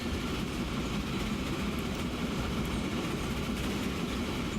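Trains run through a Transport Fever rail network, giving a continuous, fairly loud rolling rumble with faint clickety-clack that stays even and unbroken throughout, with no voices.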